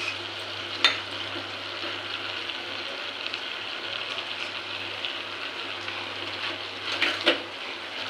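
Potatoes being stirred into a pan of peas curry with milk, giving a steady low frying sizzle and soft scraping throughout, with a couple of brief louder clatters of the spoon against the pan.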